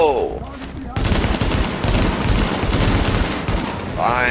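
Sustained, rapid rifle gunfire in the video game Tom Clancy's The Division, in the Dark Zone. The shots come as a dense, loud, continuous barrage. A voice is briefly heard just before the shooting starts and again as it ends.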